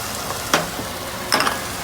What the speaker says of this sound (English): Still stirring those onions.